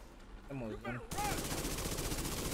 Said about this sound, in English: Target with suppressive fire.